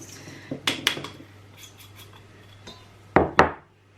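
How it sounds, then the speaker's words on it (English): A utensil clinks and scrapes in a bowl of cut tomatoes as an herb and salt mixture is stirred in, with several sharp knocks, two louder ones near the end, and quieter scraping between. "I'm going to give this a good stir."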